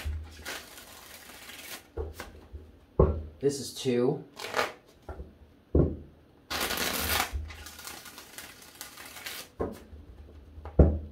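Tarot cards shuffled in several distinct bursts of riffling and bridging, close and crisp, with a voice speaking between the shuffles.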